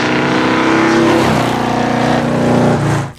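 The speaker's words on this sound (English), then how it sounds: "The 1971 Challenger RT came with the 440 cubic inch Magnum V8 as its top engine option" A 1971 Dodge Challenger R/T with its 440 cubic inch Magnum V8 gives a loud, deep, throaty roar that rises and falls in pitch as it revs, close and sustained before cutting off abruptly.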